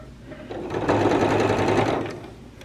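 Sewing machine stitching steadily, a close, brief run that speeds up to a busy whir and then slows, with no talking.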